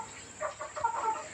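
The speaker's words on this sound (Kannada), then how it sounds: "ಕೋಳಿಗಳು ಆಲ್ರೆಡಿ ಎಲ್ಲ ಬಂದೊಳಗೆ ಕುಂತಿದ್ದಾವೆ." Chickens cluck softly in a coop at a farmhouse, a few short, faint clucks rising and falling over quiet background hiss.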